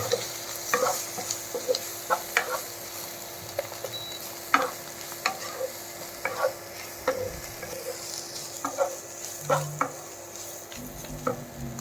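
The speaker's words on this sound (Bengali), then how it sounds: "অল্প ভিনিগার, দিয়ে ভালো করে মিশিয়ে নেব।" A spoon stirs butter-pepper pasta sauce with a splash of vinegar in a sizzling pan, making repeated scraping strokes at a loose rhythm over a soft, steady frying hiss. No one speaks.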